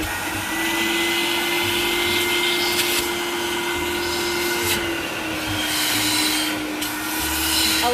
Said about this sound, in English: I'm going to take my Desiderio Plus, and I'm just going to activate the vacuum portion right now